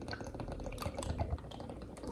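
Liquid feeding tube formula pours steadily with soft dripping and splashing, a continuous close wet trickle with no talking.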